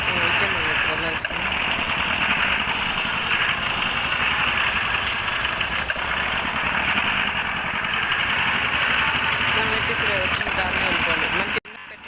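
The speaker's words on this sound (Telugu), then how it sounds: "ఇదైతే భయంకరంగా వస్తుంది సౌండ్ ట్రాక్టర్." Tractor engine in an Indian tractor simulator game drones steadily at a loud, constant idle for nearly the whole stretch, cutting off abruptly just before the end, with a voice talking over it.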